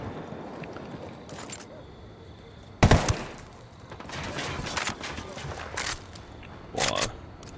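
Rifle shots ring out in a Ghost Recon Wildlands match, a few sharp, separate reports spaced across several seconds, with one loud blast near the middle, heard over a steady game ambience with players talking.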